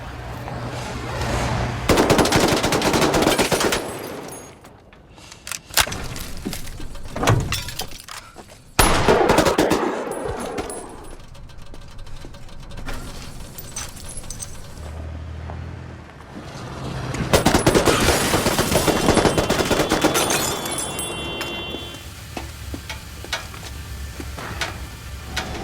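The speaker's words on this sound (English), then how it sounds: "He straps on a bulletproof vest and arms himself with the Pache submachine gun." Submachine gun fire in a dramatized film fight scene comes in loud rattling bursts separated by quieter gaps, with sharp single cracks and impacts between them.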